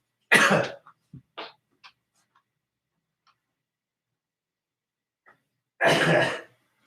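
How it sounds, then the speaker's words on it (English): A person blows their nose in two loud, short bursts several seconds apart, with a few faint small sniffs and rustles between them. "I have to blow my nose."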